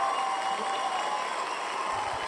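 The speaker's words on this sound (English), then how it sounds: "Should we throw on a little cheering?" Cheering sound effect dropped into a video-marketing chat, a steady crowd roar with applause that holds at an even level for a couple of seconds, fairly quiet and without any voices on top.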